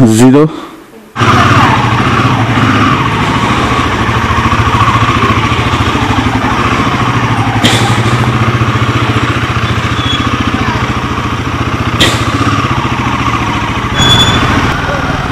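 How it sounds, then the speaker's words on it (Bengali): A motorcycle engine catches after a brief start-up noise, then runs steadily and close for the rest of the clip while a person talks over it. "এবার আমরা শুধু যাব নিচে গিয়ে স্টার্ট দিয়ে বেরোবো"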